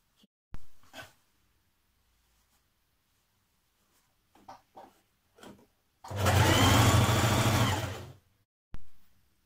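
A domestic sewing machine stitching the front band onto a dress bodice, a single loud run of about two and a half seconds after some scattered handling clicks and quiet bumps.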